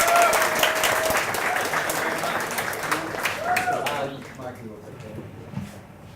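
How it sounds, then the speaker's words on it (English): An audience at a coding bootcamp demo day in Chengdu breaks into loud applause for a presenting team, sustained clapping that tapers off after about four seconds, with a voice speaking over it. "Give them a round of applause."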